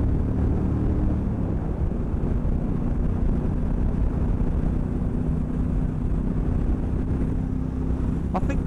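A Triumph Bobber Black Dart motorcycle cruising at about 75, with a steady, loud engine drone and wind roar that hold unbroken throughout.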